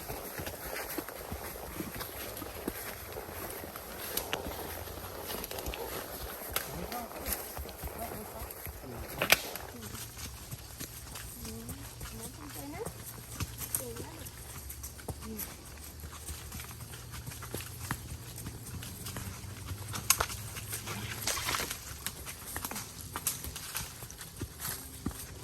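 Arabian horses walking on a family horse farm, hooves clip-clopping in a steady, moderately near rhythm, with voices and someone talking over them.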